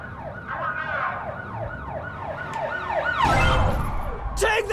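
Wailing emergency vehicle sirens sweep up and down in steady repeating cycles in a driving video game, fairly loud and continuous, with a burst of crash-like noise near the end.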